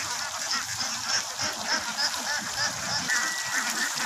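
A large flock of ducks quacks and honks continuously and loudly, a dense overlapping chorus of many birds close by with no talk.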